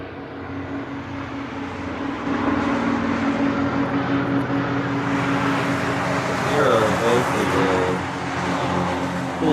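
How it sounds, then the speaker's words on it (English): An Asiana Boeing 777 inbound from Seoul approaches Honolulu airport, its broad engine roar steady and swelling slightly as it nears, with some distant road traffic in the background. "It is the Asiana 777. It's about 10 miles off the coast of Nanakuli, so it should be here momentarily."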